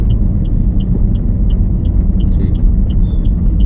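Steady low engine rumble from a car on a driving lesson while the learner shifts into second gear, a close, even drone with faint repeated ticking, likely from the indicator, over it.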